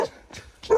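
Dogs bark in a village in the Uttarakhand hills, giving a few short, fairly distant barks, with one louder yip at the end.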